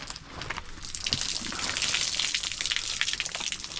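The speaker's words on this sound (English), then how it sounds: "That's actually a decent amount of water that was up there too." Rainwater spills down from above at a fort under construction, a steady splashing gush with scattered drips that holds fairly loud and continuous throughout, with no talking.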